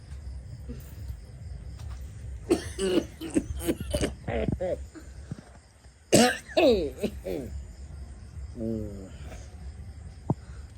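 Several harsh coughs and throat-clearing bursts come in clusters, up close, with quiet speech between them and insects chirring faintly.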